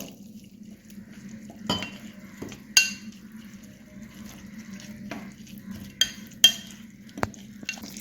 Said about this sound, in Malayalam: അത് ഞാൻ ഇതിലോട്ടൊഴിച്ച് മിക്സ് ചെയ്യാണ്